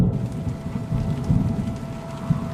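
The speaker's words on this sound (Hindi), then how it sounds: "रघु लकड़ी लेकर लौटते समय फिर से बारिश शुरू हो जाती है।" Steady rain pours down with low rumbling thunder rolling underneath, a dense continuous wash that stays loud and close throughout, with no voices.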